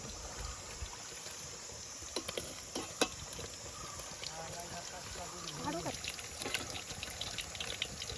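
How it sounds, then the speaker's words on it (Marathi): Food roasting in a cooking pot being stirred and scraped, heard as a faint, uneven shuffling sizzle with small clinks and pops, while voices murmur quietly in the background. "भाजून घ्यायचा"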